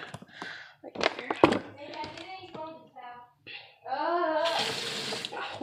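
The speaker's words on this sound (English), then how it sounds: "Why am I turning the water thingy?" Water runs from a tap at an indoor sink, a steady hiss that sets in near the end after a stretch of talking and handling noises.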